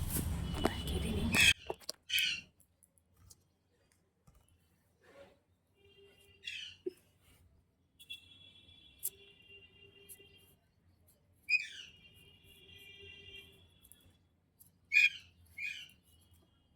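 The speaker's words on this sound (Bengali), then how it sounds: "পাখিটা দেখো কেমন ডাকাডাকি শুরু করে দিয়েছে।" A bird calls repeatedly near a home kitchen: short, bright chirping bursts recur every few seconds over a quiet background with faint household knocks.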